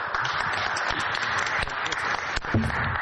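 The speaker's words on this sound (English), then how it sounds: "Applause." An audience claps for the director of a new film center, a brief burst of applause with a few sharper individual claps standing out, ending as the moment moves on.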